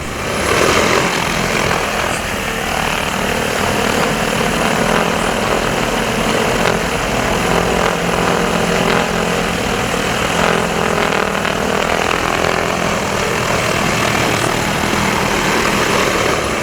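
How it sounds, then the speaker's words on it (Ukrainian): A giant agricultural drone used to spread fertilizer flies nearby. Its rotors make a loud, continuous, broadband whir that stays steady throughout, with no talking. "Влаштував школярам майстер-клас з керування гігантським агродроном, який вносить добрива в ґрунт"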